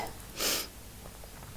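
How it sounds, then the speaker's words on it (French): A single sneeze bursts out mid-clip, a short, loud, breathy burst followed by quiet room tone. "je vais éternuer"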